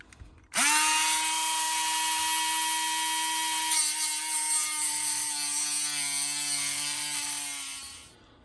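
A battery-powered Dremel cutting wheel bites into metal on a Traxxas RC crawler's portal suspension, a loud, high, sustained whine that starts abruptly, shifts pitch midway as it cuts, then tapers off near the end.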